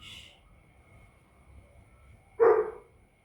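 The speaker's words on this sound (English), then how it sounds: "you'll probably hear Chopper barking because he was out here" A single sharp dog bark rings out nearby after a short, quiet pause, with a faint high squeak at the start.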